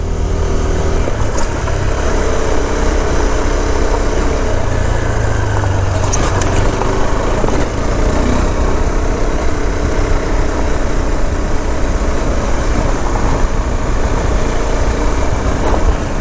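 A motorcycle holds second gear on a twisty zigzag mountain road, its engine droning steadily and loudly from the rider's position with wind rush and no talking.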